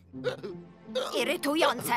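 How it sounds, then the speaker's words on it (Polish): A cartoon cat hiccups repeatedly in short sharp squeaks, interleaved with animated speech from the same character. "Musimy znaleźć inny sposób na tę czkawkę."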